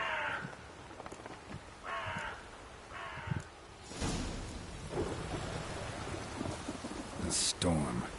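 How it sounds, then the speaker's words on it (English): A thunderstorm with steady rain in The Witcher 3: Blood and Wine, with rolling thunder cracks and rumbles over continuous rainfall and several crow caws sounding intermittently throughout. "A storm, damn it."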